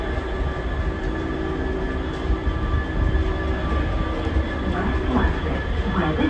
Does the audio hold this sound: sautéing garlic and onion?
no